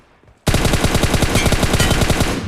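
A battle royale game lets off a sudden, loud burst of rapid automatic gunfire after a quiet start, the shots coming in a fast, steady stream for about two seconds before stopping. No one talks.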